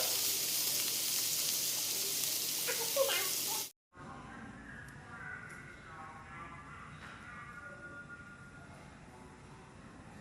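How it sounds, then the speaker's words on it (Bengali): Bitter gourd frying in oil alone, without water, a bright steady sizzle and hiss that breaks off abruptly, followed by quieter background sounds in which a voice is briefly heard. "আমরা কিন্তু এই করলা ভাজিটা করার সময় একটু পানিও ইউজ করি নাই সম্পূর্ণ তেলে ভাজা হচ্ছে"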